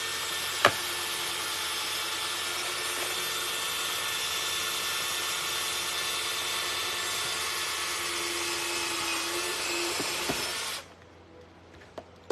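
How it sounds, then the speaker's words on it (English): A power drill runs in one long steady whine for about eleven seconds while fastening part of a handmade sugar glider toy, then cuts off abruptly, leaving a quiet room with a couple of small knocks. "Let me just drill one more thing right here just to make sure it's secure."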